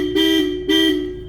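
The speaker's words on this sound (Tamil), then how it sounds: "அதுக்கு போக பார்த்திங்கன்னா ஹெவி ஹாரன் மாட்டியிருக்கு இதில்." Two loud blasts from a heavy aftermarket horn fitted on a Mahindra Bolero, each a short, strong, buzzy tone with a brief gap between them.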